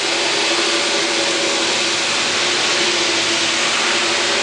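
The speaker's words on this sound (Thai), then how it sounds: "เอารถไถคันเล็กเนี่ยมาใส่เลยแล้วเราก็หมุนเลย" A sugarcane cutting and leaf-stripping machine, driven by a small tractor, spins with a loud, steady mechanical whir and hum that stays even throughout with no talking.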